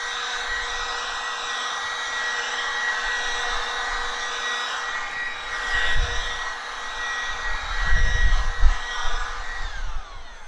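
Aoetree cordless leaf blower running on its high setting, a steady loud whine and rushing airflow held for ten seconds, swelling louder toward the end.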